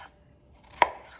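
A knife cuts through a peeled potato on a board, one sharp close chop standing out from a quiet background, with no talking.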